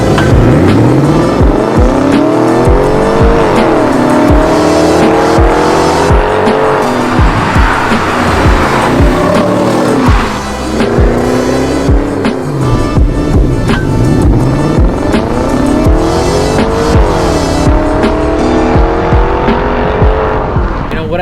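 BMW driven hard up the winding Margalla Hills road in Pakistan, its engine loud and continuous as revs rise and fall through gear changes, with tires squealing through the bends and a brief dip mid-run.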